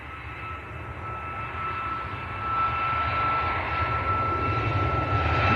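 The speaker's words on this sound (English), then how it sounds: "Ryanair on the roll." A Ryanair jet airliner on its takeoff roll at Manchester Airport, a steady engine roar that swells gradually in loudness, heard alone without talk.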